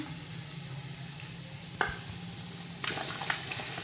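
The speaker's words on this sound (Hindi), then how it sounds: "अब हम इसमें गोश्त को डाल देते हैं।" Mutton pieces frying in a garlic, ginger and chilli masala, a quiet steady sizzle with a couple of sharp stirring scrapes and clatters.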